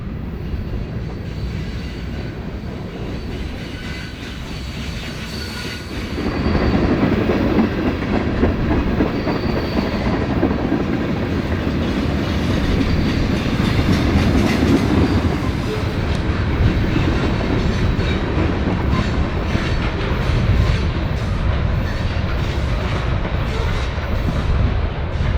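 A long Canadian National freight train rolls past, a low rumble swelling after a few seconds into a sustained roar with rhythmic clacking of wheels over rail joints and occasional faint squeals.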